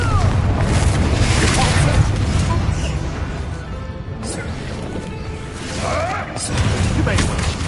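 Fiery Confringo spell blasts in Hogwarts Legacy hit with booming, crashing impacts amid spell-combat noise, several heavy bursts in quick succession under a talking voice.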